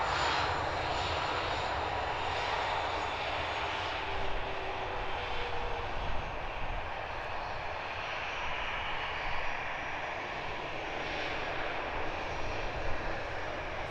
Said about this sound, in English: Next departure will be Finnair's A321-200, heading back to Helsinki.